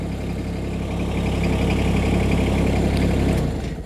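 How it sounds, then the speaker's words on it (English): A Branson 1905h 19HP sub compact tractor engine idles close by with a steady, loud, low diesel rumble that holds evenly before dropping away as it shuts off near the end. "turn off the engine again"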